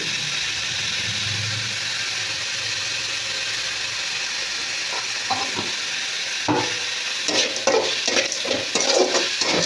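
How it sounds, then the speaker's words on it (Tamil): Onions frying in a pan for cassava poriyal, a steady close sizzle that turns into clustered spatula scraping and stirring clatter toward the end, with no talking. "வெங்காயம் நல்லா ஃப்ரை ஆகிடுச்சு."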